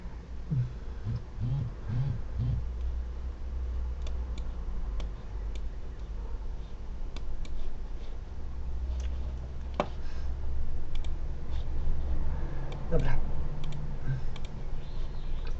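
Computer mouse clicking while burning Windows to a disc with disc-burning software, a few sparse, soft clicks scattered over a low, steady background hum.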